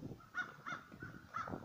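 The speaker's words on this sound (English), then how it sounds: "Hear the crows?" Several faint crow caws repeat in a loose rhythm, distant and soft against low background noise.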